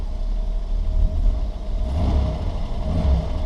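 1978 Ford Mustang II engine revving up quickly from idle, a close, rumbling rise and fall in engine note, heard alone with no talk.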